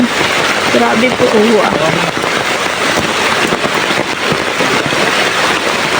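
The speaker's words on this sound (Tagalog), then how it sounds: "Pasensya na po sa ingay ng patak ng ulan na talaga pong napakalakas ng ulan dito." Steady, very heavy rain patters loudly and continuously on a surface at a fish pond, with a couple of voices speaking briefly over the downpour near the start.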